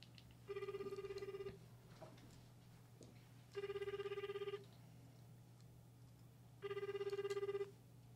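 A telephone rings during a live prize-announcement call to a contest entrant, three clear ringing bursts of about a second each, evenly spaced with quiet pauses between, alone without talk over a steady low hum.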